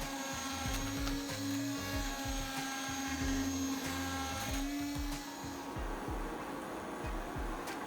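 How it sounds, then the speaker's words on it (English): A handheld immersion blender purees cooked cream of mushroom soup, its motor whining loud and steady at close range, pitch shifting slightly as it churns and then roughening near the end. "So now we're just going to cool it down and then puree it with a handheld puree"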